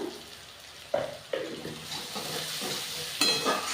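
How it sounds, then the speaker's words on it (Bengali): Chopped onion and chilli with a little turmeric sauté in a pan for a chicken dish. The close sizzle surges as a spatula strikes and scrapes the pan several times, and nobody speaks. "এবার এটাকে ভালো করে কষিয়ে নেব পেঁয়াজটার সঙ্গে লঙ্কাটা"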